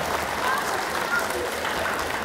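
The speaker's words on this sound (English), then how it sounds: "Let's please give them an Oregon round of applause." Applause from an audience at a library magic show, a steady wash of clapping that runs under an announcer's voice.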